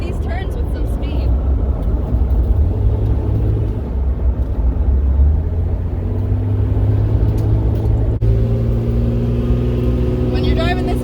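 A 1999 Lamborghini Diablo SV replica drives along with a steady, loud engine drone and low rumble that shifts pitch as it goes, with someone talking over it throughout.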